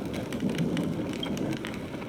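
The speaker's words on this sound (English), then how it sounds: "You're lucky to have found shelter from the rain." Steady rain pours down in the video game Honkai Star Rail, a dense, even hiss of falling drops that holds at a constant level throughout, with no voices.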